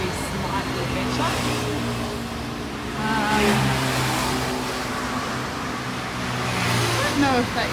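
Cars and motorbikes roll past along Bypass Road in Sanur, a steady roadside wash of tyres and engines with a few louder vehicles swelling nearby, while someone talks over it.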